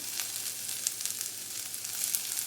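Dried basmati rice tipped into a hot pan of frying vegetables for paneer mushroom fried rice, giving a steady close sizzle with crackling pops and light stirring scrapes throughout.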